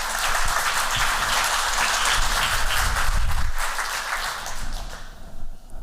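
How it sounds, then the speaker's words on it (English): Warm audience applause at a lecture, a full crowd clapping steadily and loudly for several seconds before thinning out near the end. "Please give her a warm applause."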